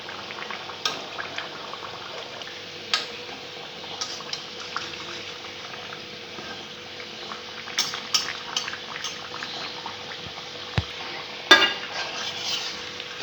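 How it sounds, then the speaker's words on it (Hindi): Green pea kachoris deep-frying in hot oil while a spoon ladles oil over them: a steady low bubbling sizzle runs throughout, with occasional soft clinks of the spoon against the pan, no talking. "इस तरह से हम चम्मच की सहायता से तेल को कचौड़ियों के ऊपर डालेंगे।"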